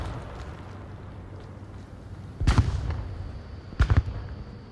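Frag grenades exploding in a VR shooter match, two loud booming blasts about a second apart over steady background noise.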